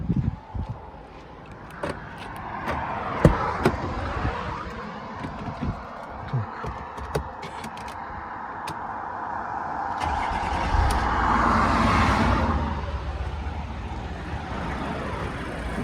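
A Volkswagen Crafter van fitted with a Mercedes 2.7 OM612 engine is started up close: a few clicks and knocks come first, then the engine cranks and catches into a steady, rumbling run.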